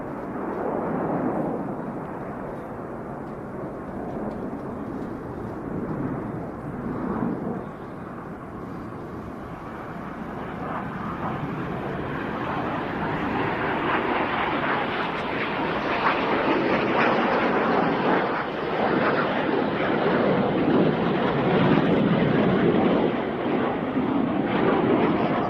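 Military jet flying a display at the Royal International Air Tattoo, a sustained roaring engine rush that builds louder and brighter over the second half, heard alone.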